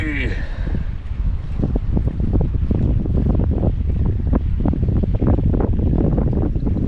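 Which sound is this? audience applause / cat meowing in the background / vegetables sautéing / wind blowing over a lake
wind blowing over a lake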